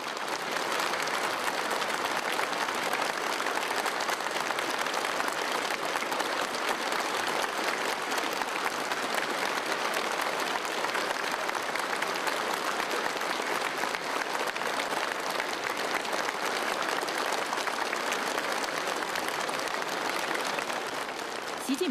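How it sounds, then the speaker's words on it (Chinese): Long, warm applause fills a large reception hall, a dense and steady roar of many hands clapping that holds evenly for over twenty seconds without fading. "全场响起长时间热烈掌声。"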